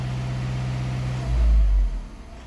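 A Volkswagen Amarok engine fitted with an Ironman 4x4 pedal booster idles steadily, then swells into one short, deep rev up to 2000 rpm before dropping back to idle.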